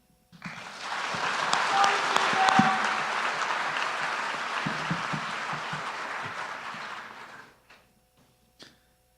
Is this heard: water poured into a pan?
no